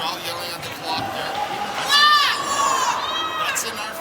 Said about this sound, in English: Crowd yelling at the clock there.